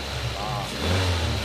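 Manual 2014 Toyota Avanza G 1.3 with a smooth-running engine, held at a steady mid-pitched hum that swells slightly as the throttle is blipped, with someone speaking over it.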